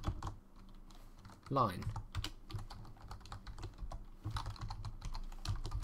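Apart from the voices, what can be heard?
typing code on a computer keyboard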